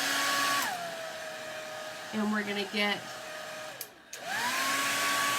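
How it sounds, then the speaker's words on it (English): A blow dryer running on its high, cool-air setting makes a steady whine that pauses while a person briefly speaks over it, then cuts out momentarily and restarts near the microphone. "let's set the blow dryer to this like we did before"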